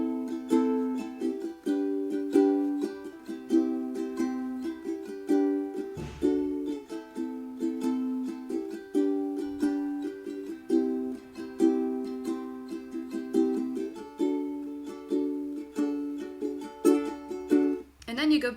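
Acoustic guitar strumming the chords of a song, a steady, close rhythmic pattern with brief pauses and chord changes, no voice over it.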